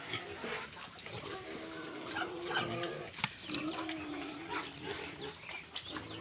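A native hen clucks intermittently in a farmyard, with soft scattered calls and a few sharper bird sounds amid low background noise.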